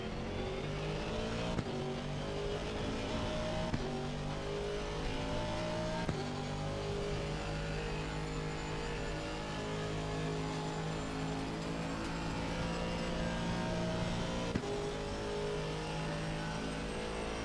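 Race car engine droning steadily in a racing game as the driver brakes hard with ABS and the tyres lock up, a constant mid-level roar with shifting engine tones and no talking.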